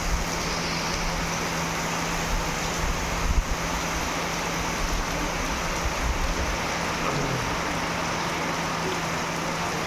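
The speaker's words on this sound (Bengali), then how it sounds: "খুব জোরদার বৃষ্টি হচ্ছে।" Heavy rain pours down on a tin roof at a labour camp, a dense, even roar of drumming drops that holds steady throughout with a low hum beneath and no voices.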